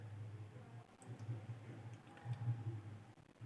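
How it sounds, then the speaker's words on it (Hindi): Computer mouse clicks come as a few faint, sharp ticks over a steady low hum, spaced irregularly and recorded close. "इस पर आपको क्लिक करना है।"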